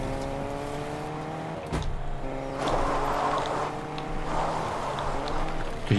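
A car in the Fortnite video game drives along a riverside, its engine giving a steady buzzing hum that rises and falls with revving, with a few thumps and splashy noise layered in.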